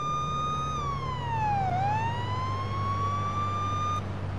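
Police car siren in a police simulator video game, one steady wailing tone that sweeps down and back up over a constant engine rumble, loud and continuous with no talking.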